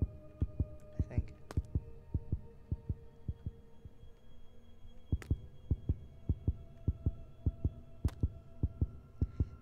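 Heartbeat sound effect in the horror video game Neighbor Next Door, a rhythmic series of deep thumping double beats that speed up in bursts, with a low hum underneath and faint sharp clicks.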